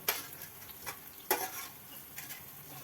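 Grated radish is sautéed in oil in a pan for a Marathi-style vegetable dish. A soft, faint sizzle plays under occasional light scrapes and taps of a stirring spoon.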